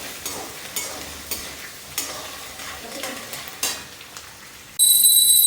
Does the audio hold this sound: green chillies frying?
yes